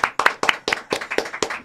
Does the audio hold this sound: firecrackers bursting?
no